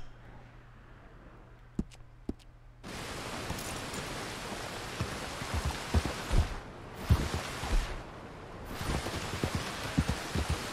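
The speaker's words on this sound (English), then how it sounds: "wait out the rain" Steady rain falls in Red Dead Redemption 2, a faint hiss at first that swells into a dense, loud downpour with brief lulls and scattered heavier drops.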